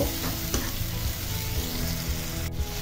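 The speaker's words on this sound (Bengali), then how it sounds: "এই মশলাগুলোকে কষানো 2-3 মিনিটের মতো কষিয়ে নিব" Spices sizzle and fry steadily in a hot pan for a Bangladeshi-style gourd peel dish, with occasional stirring scrapes over a continuous close crackle.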